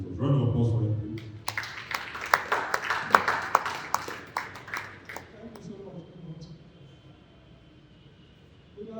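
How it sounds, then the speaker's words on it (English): An audience at a panel event applauds after a talk, a burst of sharp scattered claps that peaks and then thins out to a few stray claps, with a voice heard at the start. "Round of applause for him, please."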